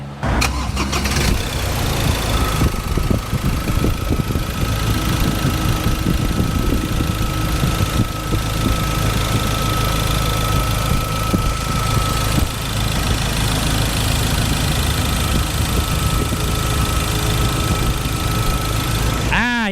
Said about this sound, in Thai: ฟังเสียงเครื่องยนต์กันเลย